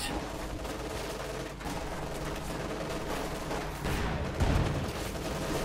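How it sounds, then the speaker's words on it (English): Battle gunfire rolls on in Company of Heroes 2, a scout car's 75mm gun among the fighting, dense rapid shots and bursts layered into a loud, continuous clatter with a heavier thump near the end. "Scout car firing back there with 75mm gun."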